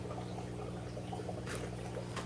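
Aquarium wave makers switched on in a stingray tank, producing a steady watery churn and trickle with occasional brighter splashy swells, heard close and continuous.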